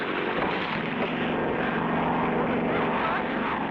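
Propeller airplane engine droning in flight in an old cartoon, a steady, loud, continuous hum with no break, heard alone.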